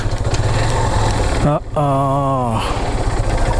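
A motorcycle engine idles with a steady low rumble throughout, briefly joined midway by a rising tonal whine.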